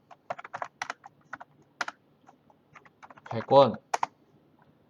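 Keystrokes on a computer keyboard while prices are typed into a shop price list, a run of short crisp clicks with pauses, one brief spoken word near the end.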